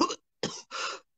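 Three harsh coughs close by, the first short and the last two longer and raspier, with brief pauses between.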